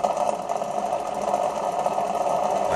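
Small electric motor rotors in a back EMF and flyback spike experiment, giving a steady buzzing whir at constant pitch and loudness, close up and without talk.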